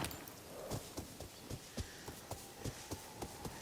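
Horse hooves in the Ghost of Yotei game, a steady clip-clop of a mounted horse walking at a relaxed, even pace against soft ambient background.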